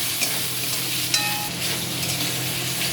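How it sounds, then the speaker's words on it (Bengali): Boroli fish stirred in a hot pan with turmeric and salt, a steady bright sizzle with soft scraping strokes of the spatula, close and continuous with a couple of small clinks, no talking. "লবণ হলুদ দিয়ে দিয়েছি, এবার নাড়াচাড়া দেবো"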